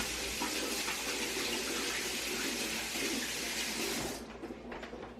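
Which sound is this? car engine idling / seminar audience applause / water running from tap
water running from tap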